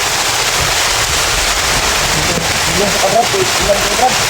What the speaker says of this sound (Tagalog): parang malakas ang ulan